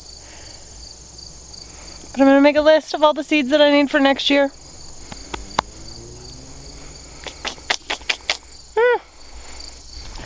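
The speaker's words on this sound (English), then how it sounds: "Oh, those crickets are so loud that almost hurt my ear." A constant high-pitched chorus of crickets in a garden in early September rings throughout, loud and shrill, while someone speaks briefly over it.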